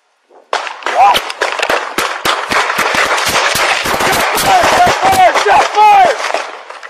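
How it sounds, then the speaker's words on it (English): A rapid string of loud, close gunshots cracks out in irregular bursts, with whistling or squealing tones and voices mixed in. "Shots fired!"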